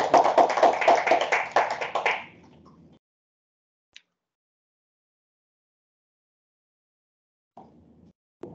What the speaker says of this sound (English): Give an applause to Dr. Ashok for your presentation.